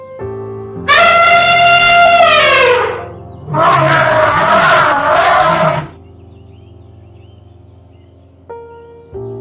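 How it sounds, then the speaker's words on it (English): An elephant calls loudly in the wild, giving a long trumpeting blast followed by a second rough, roaring call, then quiet. "Elephant."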